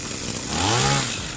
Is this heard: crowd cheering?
no